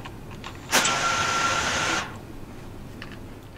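A DJI Mavic Air 2 drone with its propellers attached spins up nearby, producing a loud whirring whine with a steady high tone that lasts just over a second before cutting off.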